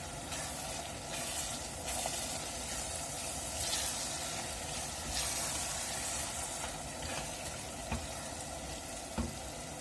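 Ground meat filling with red pepper powder sizzles steadily in a pan as it is stirred, a constant close hiss with faint scraping and light ticks and no talking.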